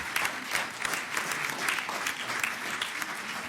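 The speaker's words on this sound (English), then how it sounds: "Let's give one final round of applause to all our special honorees this evening." An evening gathering gives its honorees a final round of applause, a steady, even wash of many hands clapping throughout.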